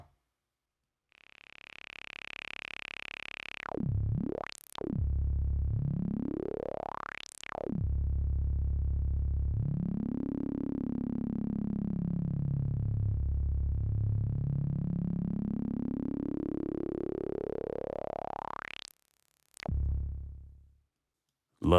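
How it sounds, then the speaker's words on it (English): Filtered sawtooth wave from a Cherry Audio GX-80 synthesizer, a sustained buzzy tone whose filter sweeps repeatedly up and down in long swooping glides, loud and steady, with no talking. "let's listen to the saw wave filtered out."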